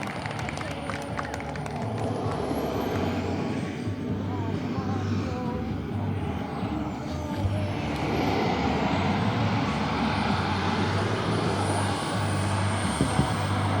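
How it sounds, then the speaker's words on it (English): A 2.1-meter radio-controlled F-86 model jet taxis back on the field, its turbine whine steady and fairly close under an announcer's amplified voice and a murmuring outdoor crowd. "The airplane has brakes, he'll slow it down, he'll taxi back."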